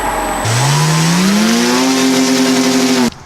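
A modded remote-control car fitted with a bigger motor and added plastic parts whines steadily and loud, its pitch climbing smoothly then holding for a few seconds before it cuts off abruptly.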